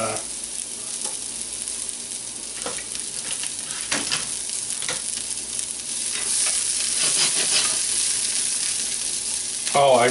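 Shallot frying in a hot pan, a dense continuous sizzle with occasional stirring scrapes, growing slightly louder toward the end, close and steady.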